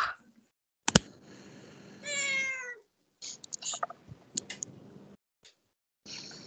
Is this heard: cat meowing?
yes